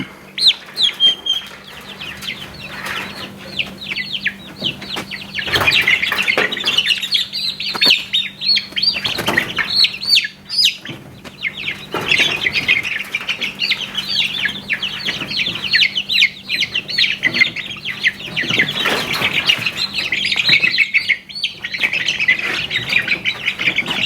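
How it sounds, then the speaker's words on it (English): A small bantam rooster and a flock of chickens squawk and cluck almost continuously, close and busy, with overlapping calls and a faint steady hum underneath. "Here's a little banty rooster that hatched out."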